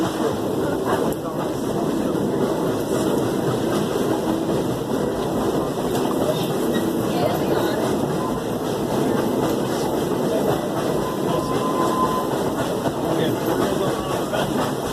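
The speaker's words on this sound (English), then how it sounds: "listen to the engine as she tries to make her way up the mountain." A Dollywood train engine labors up a mountain in the rain, a continuous dense rumble and rattling roll of cars heard steadily from on board, with no clear voices.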